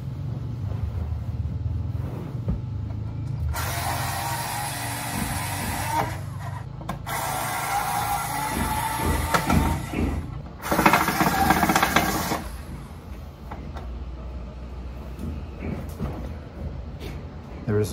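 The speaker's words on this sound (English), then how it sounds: "There's always one screw that's rusted that doesn't want to come out." A rusted screw being worked loose with hand tools while fixing lights, with long bursts of harsh grinding and scraping, intermittent ratcheting clicks, and someone talking throughout.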